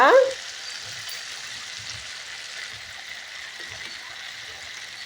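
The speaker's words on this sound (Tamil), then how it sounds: "கல்லுப்பு போட்டு நல்லா வதக்கி விடலாங்க." Eggplant sautés with rock salt in a pan, making a steady, even sizzling hiss after a brief sharp sound at the start, with faint stirring taps underneath.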